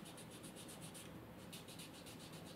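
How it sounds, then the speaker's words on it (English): Sandpaper rubbing over the blade of a cane reed in steady back-and-forth strokes, a soft, close, rhythmic rasp with a short pause midway before the strokes resume. "I'm just sanding the whole blade"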